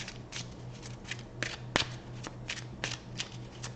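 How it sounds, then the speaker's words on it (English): Angel cards riffled and shuffled by hand, a quick series of crisp papery flicks and snaps over a faint steady hum, close and fairly quiet. "let's pull one of these angel cards"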